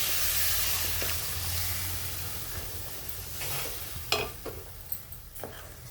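Besan batter mixed with turmeric and salt, stirred in a hot pan, giving a soft steady sizzle with scraping strokes and a few sharp clinks of the spoon against the pan toward the end.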